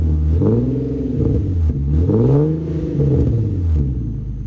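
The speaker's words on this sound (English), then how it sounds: "there was just something a little bit different about the rev with the 2 1/4 inch test pipes" A car engine revs up and down several times, loud and close, with a deep raspy exhaust note rising and falling, from an Infiniti Q50 fitted with 2 1/4 inch test pipes.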